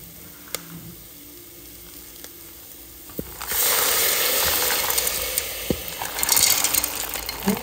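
Beans poured into a hot pan with mixed vegetables set off a sudden loud, broad sizzle partway through, after quieter clinks, then keep hissing with scraping and clattering bursts as they are stirred.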